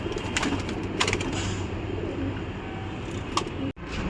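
Pigeons coo softly and repeatedly in the background over a steady low rumble, with a few light clicks and rustles nearby.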